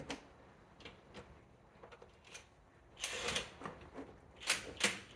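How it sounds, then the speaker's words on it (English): Bolts go into the lower mounting points of a rear light assembly on a 2014-2021 BMW i3, giving faint, sparse clicks and ticks, then a few louder metallic rattles and taps near the end, close up in a quiet space. "And now being able to install our 3 bolts on the bottom"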